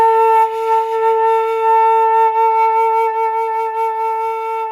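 A flute sustains one steady low A, played an octave below the written pitch, as a single long unbroken tone heard up close with no talking.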